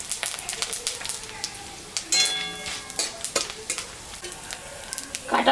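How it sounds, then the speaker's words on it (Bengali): Cumin, dried chillies and bay leaves tempered in hot oil left from frying fish crackle and sizzle in irregular sharp bursts, with a brief ringing clatter midway and a louder flare at the end, close by. "মাছ ভাজা তেলের উপরে জিরা,"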